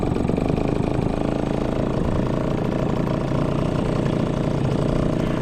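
A Sea-pro T2.6S outboard boat motor runs steadily at a constant idle, a loud, continuous buzzing drone heard close up with no talk over it.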